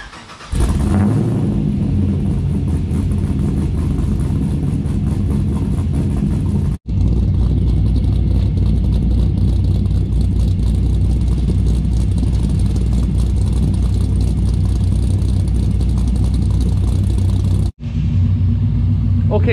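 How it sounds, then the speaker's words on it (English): A car fitted with an LS engine and FiTech Ultimate fuel injection idles while warming up, a steady low rumble held for nearly twenty seconds with two brief cuts, close and loud without talk. "while we wait for the engine to get up to operating temp"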